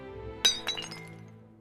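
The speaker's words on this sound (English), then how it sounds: "Elara looked at her glass slippers, clicking them on the stone floor." Glass slippers click against a stone floor, giving two bright glassy clinks a moment apart, the first louder, each leaving a brief ringing tail that fades out.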